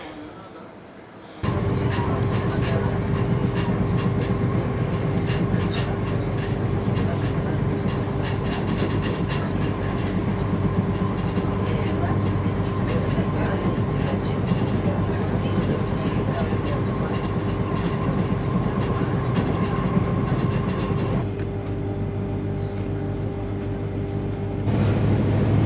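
A modern train in Sicily on the Trapani–Castelvetrano line rolls along its rails with a continuous low rumble and a steady tone for most of the stretch, easing slightly near the end, with occasional voices.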